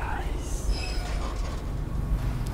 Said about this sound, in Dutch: Oh, een mooi treintje.